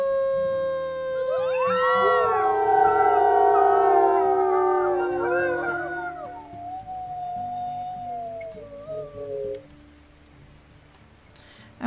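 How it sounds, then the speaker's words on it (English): Wolf pack group howl in a video game: several rising, overlapping wolf howls build together, then fade out over several seconds, loud and sustained, with a faint background wash. "Let's go ahead and do a nice group howl"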